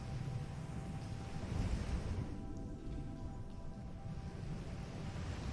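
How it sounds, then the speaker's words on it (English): Distant ocean waves roll against rocks below sea cliffs, a steady low surging wash with a soft wind hiss, continuous and unbroken, no voices. "The distant waves roll endlessly against the rocks below."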